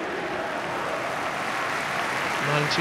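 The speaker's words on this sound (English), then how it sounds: "The crowd applauds and stands to support Stan" A large crowd at Villa Park football stadium applauds steadily during an Aston Villa versus Bradford City match, a broad sustained wash of clapping with a voice speaking over it.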